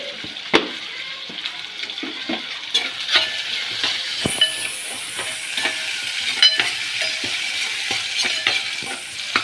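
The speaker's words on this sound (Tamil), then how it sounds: "இப்போது வெங்காயம் போட்டுக்கலாம். வெங்காயம் கொஞ்சம் உப்பு கொஞ்சம் போட்டுக்கலாம்." Chopped onion with a pinch of salt sizzles steadily in a hot pan for a home-style Tamil cooking session, with occasional scraping stirs and clinks of a spoon throughout, close and fairly loud, no talking.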